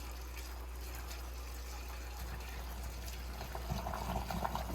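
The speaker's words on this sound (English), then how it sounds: "the boiling water, we would just pour right in." Faint, quiet pouring of boiling water into a jar of mustard greens for pickling, a soft continuous splash and gurgle that grows a little louder as the jar fills.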